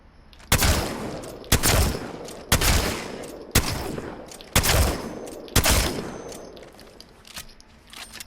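Mastiff shotgun firing in a video game, six heavy booming blasts spaced roughly a second apart, each with a short rumbling tail, loud and close with no talking.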